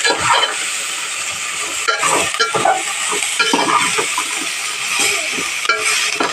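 Chutney ingredients, including fresh coriander leaves, sautéing in a pan, with a loud, steady sizzle and frequent scraping and stirring strokes close by.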